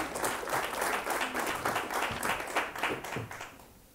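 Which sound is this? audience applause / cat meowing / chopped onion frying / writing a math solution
audience applause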